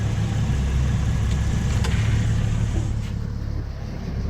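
A 2011 Ford Mustang V6 idling just after an oil change, a steady low rumbling hum close by with a couple of faint clicks, running alone without voices.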